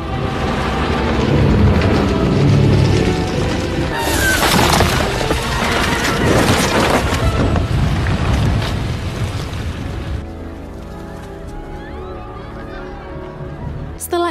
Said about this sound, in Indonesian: Tapi karena banyaknya ledakan, pohon Home Tree pun roboh dan menewaskan banyak sekali suku Na'vi.